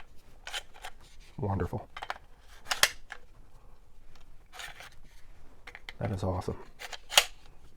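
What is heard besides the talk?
magazine inserted into pistol with ambidextrous magazine release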